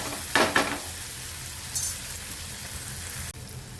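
Eggplant sautéing in hot oil with turmeric going in, a loud sizzling burst near the start that then settles into a steady, softer frying hiss, with a brief clatter toward the end.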